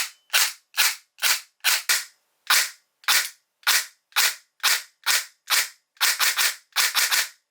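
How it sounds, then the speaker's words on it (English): A Krytac CRB airsoft electric gun with an upgraded gearbox fires sharp, loud snapping shots, evenly spaced single shots followed by quicker bursts near the end, with silence in between. "This is going to be a test fire to see if it works."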